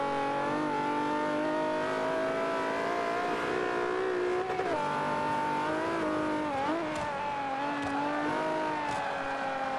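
Front-wheel-drive race car in a driving game on the Nürburgring, engine revving hard and steadily climbing in pitch through gear changes, with a brief tire squeal, loud and close with no talk.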